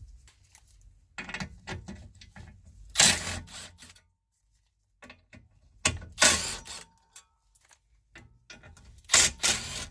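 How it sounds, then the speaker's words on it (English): Ratchet wrench loosening four 10mm bolts on a Nissan Rogue during blower motor and resistor replacement, heard as several separate bursts of clicking and metallic mechanical rattling, close and fairly loud, with quiet pauses between them. "you got to remove these 4 bolts. 1, 2, 3, 4, and they're 10mm."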